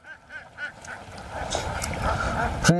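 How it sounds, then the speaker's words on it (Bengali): Running laying ducks on a duck farm, many quacking close by in short repeated bursts over a busy background of flock noise. "আপনারা দেখতে পাচ্ছেন রানিং ডিম পাড়া হাঁস"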